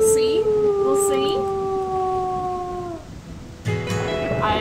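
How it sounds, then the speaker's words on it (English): A wolf howls in the video game WolfQuest, a long sustained tonal call held for about three seconds before it breaks off, followed by another howl starting up. A stormy backdrop hisses underneath. "She's howling again. We'll howl back."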